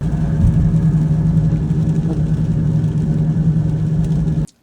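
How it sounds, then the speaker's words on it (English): A steady low humming drone from a failing front left wheel bearing on a moving BMW F30, continuous and fairly loud for several seconds before cutting off abruptly. "my car has developed this humming noise that is coming from the front left tire"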